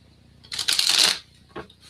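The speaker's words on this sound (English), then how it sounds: "As I'm shuffling for Miss Sunshine" Tarot cards being shuffled by hand, a loud, close papery riffle lasting under a second, followed by a shorter second riffle and soft handling noise, with no talking.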